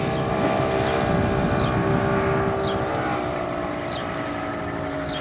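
A 1994 Grady White 209 Escape boat engine opens up with a loud, steady motorboat roar, its pitch shifting as it speeds up over choppy water, accompanied by wind noise.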